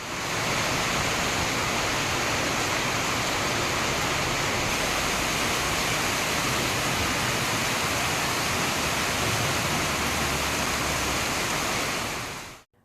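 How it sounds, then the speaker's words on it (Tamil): Heavy rain pouring in Kangeyam during a thunderstorm, a loud, dense, continuous roar of downpour that holds steady throughout before cutting off abruptly at the end. "காங்கேயத்தில் 1 மணி நேரம் இடி மின்னலுடன் கனமழை கொட்டி தீர்த்தது."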